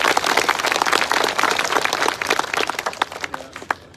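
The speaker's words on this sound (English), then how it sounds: "Let's give them a round of applause." A theater audience at a Broadway show applauds, a dense wash of clapping that holds steady, then thins into scattered individual claps near the end.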